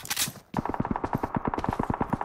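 A rapid, evenly spaced string of automatic gunshots in PUBG, about twenty sharp cracks in a steady rhythm after a brief opening burst, moderately distant with a slight echo.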